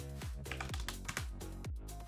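Quick, fairly regular keystrokes clatter close up on a computer keyboard, a run of crisp clicks with no one speaking.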